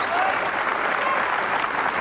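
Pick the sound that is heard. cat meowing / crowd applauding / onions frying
crowd applauding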